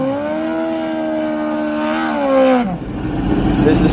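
A Pro Mod drag-racing motorcycle's engine roars in a final round, holding a loud steady high-revving drone before the pitch drops and a rougher surge of engine noise follows.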